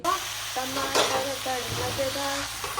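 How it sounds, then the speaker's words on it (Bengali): Vegetable curry fries in a pan with a steady sizzle while a utensil stirs and scrapes in repeated strokes, close and fairly quiet. "এখন আমি রান্না করছি সবজির তরকারি"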